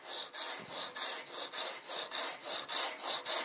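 A broadhead held in a sharpening jig is rubbed back and forth on 320 grit sandpaper over a flat surface, giving about ten even, rhythmic rasping strokes close up, with no talk.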